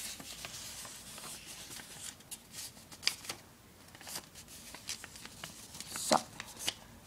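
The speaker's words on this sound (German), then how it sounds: "und dann faltet ihr alles zusammen" Sheets of paper being folded together into a small booklet by hand, giving soft crinkling, rustling and sliding sounds with a few sharper crisp creases, close up and quiet with no talking.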